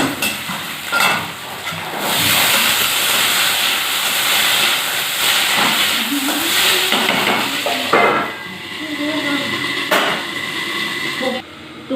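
Chooda matar, flattened rice and peas, tempering in a hot pan with a loud, continuous sizzling hiss, plus occasional clinks and knocks of utensils.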